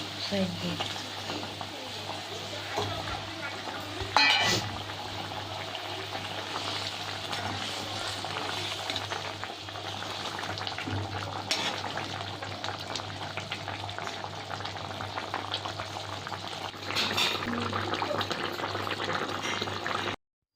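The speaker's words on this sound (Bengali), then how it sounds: "এখন দেখতেই পাচ্ছ আমাদের ঝোলটা ফুটে উঠেছে।" A sardine curry broth boils steadily in a pan with a constant bubbling hiss, a few louder splashes and clatters breaking through now and then, heard close.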